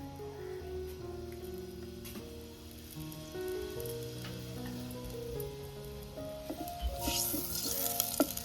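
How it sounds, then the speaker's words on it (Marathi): Crushed garlic dropped into hot oil in a clay pot for a Konkani Koli-style dry fish dish, a soft sizzle that swells toward the end beneath background music. "आता पहिल्यांदा मी लसूण टाकते."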